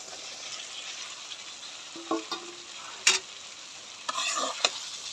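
Fried vegetables with salt and spices are stirred in a pan, a quiet steady sizzle broken by a few sharp scrapes and clacks of the spoon.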